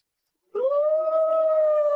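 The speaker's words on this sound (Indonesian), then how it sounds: "Ada serigala." A wolf lets out a single long, rising howl that swells after a short silence and holds steady, loud and close, in a dramatized time-travel story.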